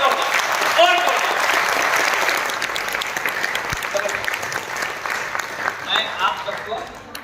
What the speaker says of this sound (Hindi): आप लोगों के लिए एक बार जोरदार ताली अपने लिए बजाइए सर